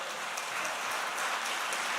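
Steady, fairly faint applause from a church assembly accepting a declaration, a dense continuous patter of clapping with no voices on top, even in level throughout.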